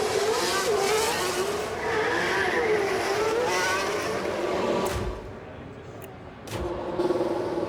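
Formula 1 cars leaving the pits in qualifying in the F1 Manager 24 video game, engines whining and rising in pitch as they pass, loud and steady before fading, with a brief sharp burst near the end.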